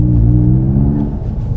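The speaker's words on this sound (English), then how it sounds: "See what the drone is like with the valves open." Low, steady exhaust drone from a Toyota GR Yaris with an Aulitzky OPF-back valved exhaust, valves open, cruising in 4th gear at constant speed, a deep resonant hum that eases off slightly toward the end.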